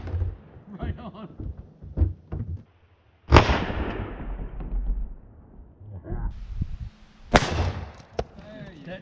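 Two loud, close blasts from a Taurus Raging Hunter .454 Casull revolver fired at a bowling ball, spaced several seconds apart, with people talking before and between the shots.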